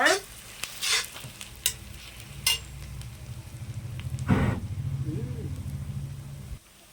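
Onions frying in a pan for chicken macaroni, with sharp spatula scrapes and clanks over a steady sizzle, close by; a low hum runs beneath and stops near the end.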